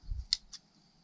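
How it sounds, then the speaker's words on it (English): Scissors snipping fat from between the feathers of a turkey fan: two quick, close, crisp cuts, with a soft handling thump before them, in an otherwise quiet room. "These scissors also really do a good job. They kind of cut between the feathers, and then any fat that's kind of raised up, you can cut it right out."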